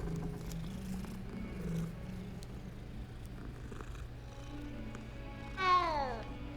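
A cat in the Hogwarts Legacy video game gives a single short, bright meow near the end over a steady low game ambience with a faint purr-like hum.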